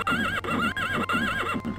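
A horse in the video game Elder Scrolls Daggerfall lets out repeated wavering neighs, four or five whinnies in quick succession, loud and alone.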